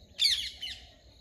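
Wild parrots calling from trees beside a house in the early morning, a single loud harsh squawking burst followed by a shorter fainter call, with no talk over it.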